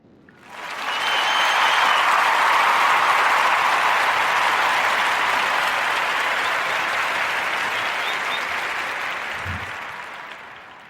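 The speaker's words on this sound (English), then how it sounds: "Let's give a Narrative Podcast warm rounds of applause for Miss Issa Rae." Warm audience applause swells in quickly, holds as a dense, steady wash of many hands clapping for about ten seconds, then slowly tapers, with no speech over it.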